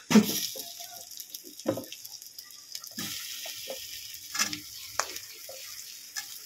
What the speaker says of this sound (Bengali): এবারে এতে আমি 3টে আলু দিয়েছি, আলু দিয়ে কুমড়োগুলো দিয়ে দেবো।